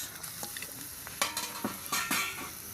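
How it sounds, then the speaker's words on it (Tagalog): Native chicken sautés in a hot pan, a soft sizzle broken by scraping and clinking stirs of a utensil, close by, with no talking. "Gisahin na natin to ng maayos."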